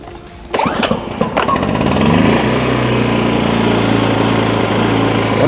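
A small Unicraft PG-I 20 SR portable inverter petrol generator is pull-started with a couple of sharp tugs, then catches and settles into a steady, loud, buzzing idle in eco mode.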